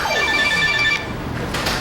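A telephone rings with a bright electronic ringtone of repeated tonal pulses, loud and close, stopping about halfway before a quieter room tail; no talk.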